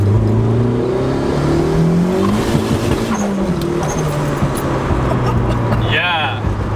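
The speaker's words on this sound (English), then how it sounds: "Maybe we'll try second this time, wide open throttle, and see what happens." Turbocharged car pulling hard in second gear at wide open throttle, a loud steady engine roar with rising harmonics throughout, close and continuous, with a brief high whistle or chirp near the end.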